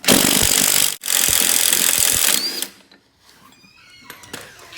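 Impact wrench hammering off the spindle center nut on a Husqvarna RZ4623 mower deck: two loud rattling bursts with a short pause between, then quieter clinks and handling noises.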